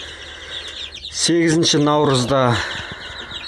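Turkey and chicken chicks chirp in a brief burst of high, rapid peeping calls close by, over a low background of more chick chirps, with a person speaking.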